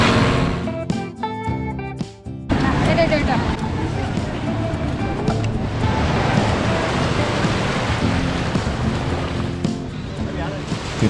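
Ocean surf at Varkala beach in Kerala, heard near a floating bridge, rises into a steady, loud, broadband roar of breaking waves after a brief quieter opening.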